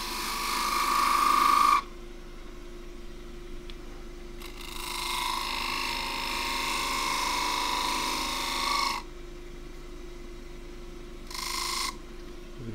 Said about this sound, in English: Do that with the 3/8 spindle gouge.